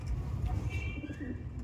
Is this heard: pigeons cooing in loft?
yes